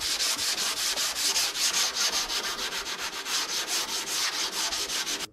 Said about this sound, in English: you need to keep sanding or you need to stop and add something